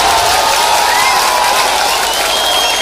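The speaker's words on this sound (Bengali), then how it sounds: "সকলে একটু হাততালি" An audience claps at a school's 127th anniversary celebration, a loud dense wash of applause with crowd noise that carries steadily throughout, close and sustained.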